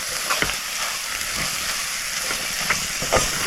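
Grated fresh coconut and coriander sautéing in a pan for a Konkan-style cowpea, brinjal and potato curry: a steady, close hiss and sizzle with faint clinks of stirring, no voices.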